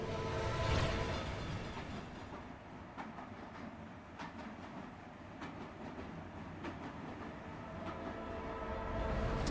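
A subway train runs steadily through a scene in the game Zenless Zone Zero, a continuous rumbling roll with light rhythmic clicks of wheels on track.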